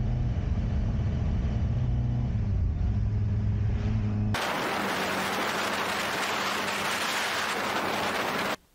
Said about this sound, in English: So you can actually get some decent bike audio